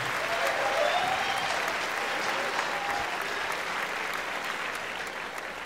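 Applause from the audience at an awards show, sustained loud clapping from a big crowd that gradually eases off toward the end.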